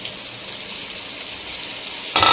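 Paneer, about 200 grams, sautés in a pan over a high flame with a steady loud sizzle. A brief louder burst comes at the end, and no one speaks.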